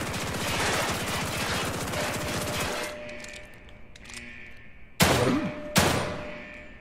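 Rapid automatic gunfire in The Evil Within 2 rattles for about three seconds, then stops. After a quieter stretch come two loud, sharp single shots a moment apart.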